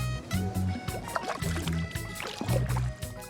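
A wooden pirogue dugout canoe moves along a river through mangroves, with rhythmic knocking and splashing paddle strokes, low droning thumps and water sloshing close by.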